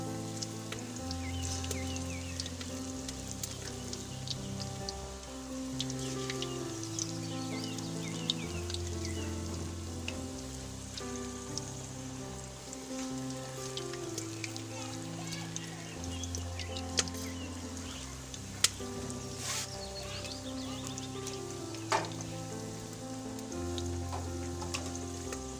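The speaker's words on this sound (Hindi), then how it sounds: "आपने दरमियाने साइज़ के पकौड़े इसमें डालने हैं, अगर ज़्यादा बड़े डालेंगे तो ये कच्चे रह जाएंगे।" Medium-sized pakoras sizzle steadily in hot oil, a dense continuous frying hiss heard up close and alone, with a faint musical backing underneath.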